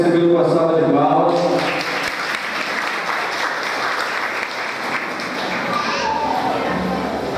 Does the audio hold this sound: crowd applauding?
yes